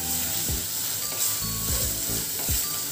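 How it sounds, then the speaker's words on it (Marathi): Ground masala paste sautéing in hot oil over medium heat for a chicken dish, a continuous sizzle broken by a few soft rhythmic scraping strokes of a spoon, no voices. "तेलामध्ये घालून आपण परतून घेणार आहोत"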